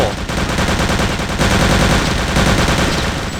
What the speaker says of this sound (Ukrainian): А, то походу вони стріляють, солдати.